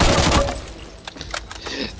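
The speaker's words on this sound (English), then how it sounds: "I would say this might be the assault rifle for you if you're moving" Assault rifle fire in the shooter game Back 4 Blood: a dense burst of rapid shots loud at the start, then trailing into scattered fainter bangs and impacts with no talk.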